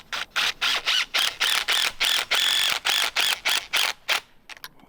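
A screw is tightened into a metal camera mount in a self-filming rig, giving a rapid series of short ratcheting clicks in regular bursts, close up, slowing and fading toward the end.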